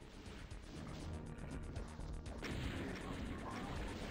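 Chaingunner enemies firing in the Doom-style game Valiant, a rapid stream of loud gunshot bursts and crashing impacts packed tightly together, rolling on continuously with a sharper hit about midway.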